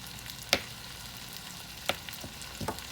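Potatoes frying in salted butter in a pan on a home stove, a quiet steady sizzle broken by three sharp clicks or taps of a utensil against the pan.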